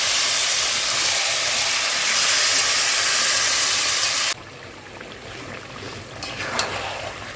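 Meat being sautéed in a pot gives off a loud, steady sizzling hiss that drops abruptly to a much quieter simmer partway through, with a few faint clinks afterward.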